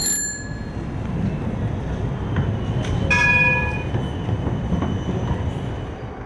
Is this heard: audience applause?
no